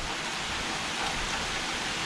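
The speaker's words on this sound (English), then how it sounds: "it is raining a little bit" Steady rain hisses evenly throughout, a dense, constant wash of drops with no voices.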